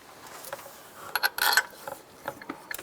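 Metallic clicks and ratcheting scrapes as a bolt is fitted to the serpentine belt tensioner pulley on a Chevy Colorado, a louder grinding burst in the middle, close and without speech.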